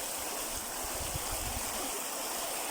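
Steady rushing and splashing of water pouring over a small dam built of stream material, making a little waterfall; continuous, close and fairly loud, with no talk.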